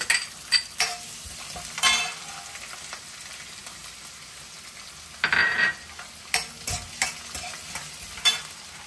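Small chopped pieces of ginger and garlic fry in a pan for dal khichdi, with a steady sizzle broken by repeated scraping and clattering as the spoon stirs, close and clear, with no speech.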